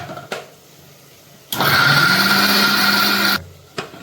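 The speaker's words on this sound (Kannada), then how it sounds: "ಇದಕ್ಕೆ ಸ್ವಲ್ಪ ನೀರನ್ನು ಆ್ಯಡ್ ಮಾಡಿಬಿಟ್ಟು ಇವಾಗ ಗ್ರೈಂಡ್ ಮಾಡ್ತಿದ್ದೀನಿ." A kitchen mixer grinder whirs loudly for about two seconds, grinding a masala paste with added water for mutton chops, starting and stopping abruptly between quieter kitchen sounds.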